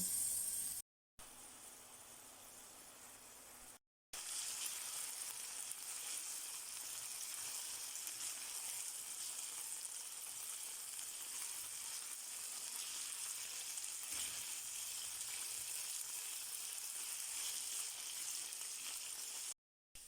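Meat sizzles steadily in a frying pan, a soft, continuous hiss that stays even throughout, with a few short gaps of silence and no talking.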